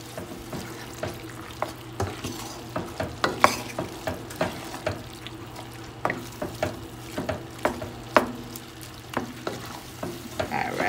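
A spoon stirs chili beans in a sizzling pot, scraping in a steady rhythm of repeated strokes over a constant low frying hiss, close and alone.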